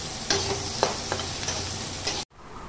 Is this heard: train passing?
no